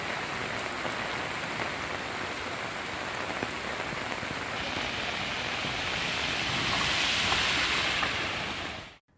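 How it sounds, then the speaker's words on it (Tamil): Heavy rain pours steadily for several seconds in a dense, loud hiss of drops on the ground, with no voices, before cutting off abruptly at the end. "நேற்று 5 மணி நேரத்திற்கும் மேலாக இடியுடன் கனமழை வெளுத்து வாங்கியது"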